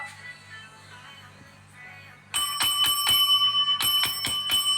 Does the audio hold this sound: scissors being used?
no